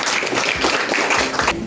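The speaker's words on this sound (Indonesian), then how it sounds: "Kita beri tepuk tangan." Brief burst of applause from a room of people, a dense steady patter of clapping at moderate volume, with no distinct voices.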